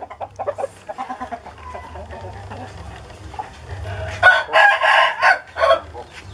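A Bangkok-breed rooster crows and clucks close by in a series of loud, repeated calls, with a person talking softly nearby in between.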